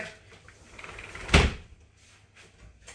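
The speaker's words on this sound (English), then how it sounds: "I'll just shut the door." A single household door shuts with one loud, sharp thud in an otherwise quiet room, set in a home kitchen during baking, with faint background room noise before and after.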